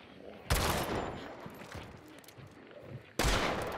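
Two sharp, loud bursts of gunfire in the video game Hunt: Showdown, the first followed by a long decaying reverberant tail before the second blast, close and heavy against a quiet background.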